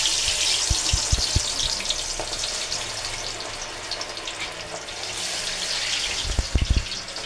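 Masala-coated fish frying in hot oil, a steady close sizzle and crackle running throughout, with a few low knocks and thuds at the start and near the end.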